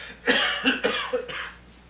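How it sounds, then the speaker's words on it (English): A man in a stage play coughs, a rough cluster of three or four close, loud hacking coughs with a brief throat-clearing quality, alone without speech. "Mother says your cough will get better when the weather gets warmer"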